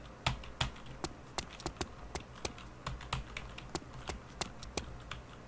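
Fast, uneven typing on a worn computer keyboard with a sticking E key, crisp close key clicks tapping out in irregular bursts with no talking.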